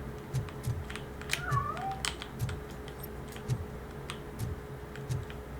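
A cat meows a few times in the video game Robocop: Rogue City, heard over a soft tapping background with faint clicks.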